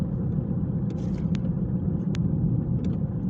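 A car cruises along the Slutsk–Minsk highway, a steady low road rumble and engine hum heard from the cabin, with a few faint clicks over the constant drone.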